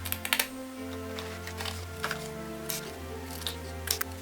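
Hand scissors cutting a paper word out for a mixed media Christmas tag, a series of small crisp snips at irregular intervals, close up over a steady low hum, with no talking.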